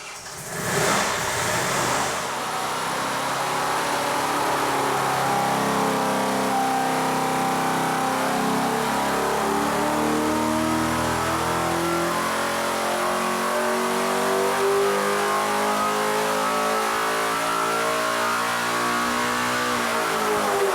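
A 572 c.i. Hemi with a tunnel ram intake roars on a dyno, revving up from a start and holding a loud, rising, sustained wail close by for the full pull.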